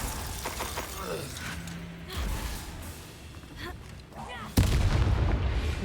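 In the Hogwarts Legacy video game, Confringo and Glacius spells go off amid battle effects: cracking blasts, mechanical creaks and a loud impact near the end, with a voice briefly audible.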